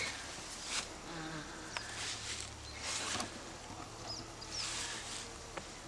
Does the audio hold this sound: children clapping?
no